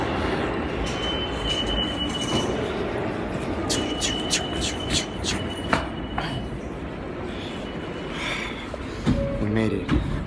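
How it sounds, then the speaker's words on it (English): A New York City subway train on the morning run from Brooklyn rumbles and clatters steadily with rising metallic wheel squeals and brief clanks, loud and close throughout, with faint voices mixed underneath. "I'm over here on the morning train, New York City from Brooklyn"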